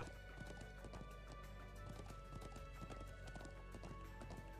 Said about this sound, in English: Is that horse still over here again?